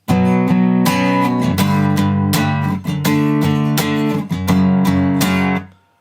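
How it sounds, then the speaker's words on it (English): Full, ringing acoustic guitar power chords struck in short repeated bursts, loud and close, with brief gaps between groups before the last chord fades out. "we can play it on acoustic guitar as well"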